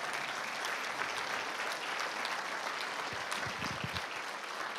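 A church congregation claps together during a sermon, a steady, moderately distant wash of applause with a brief murmur of voices rising near the end.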